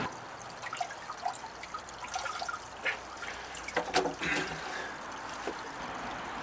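Water splashes and trickles unevenly through a homemade 3D-printed nozzle feeding a trompe microhydro setup with a Pelton turbine, fairly faint with small irregular spurts and drips, no speech.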